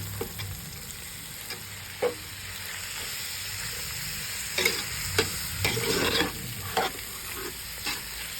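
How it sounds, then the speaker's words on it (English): Ground pork sautéing in a pan for Pangasinan-style pork igado, a continuous close sizzle with scattered spatula scrapes and clinks, no voices. "We're going to keep on sauteing this for about until the meat turns soft and easy to chew"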